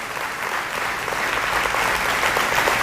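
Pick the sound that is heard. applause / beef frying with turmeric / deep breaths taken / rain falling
applause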